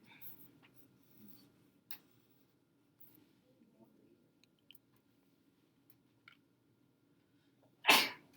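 A single sharp human sneeze bursts out near the end, loud and close, after a quiet stretch of faint room noise and soft pen scratching during a math lesson.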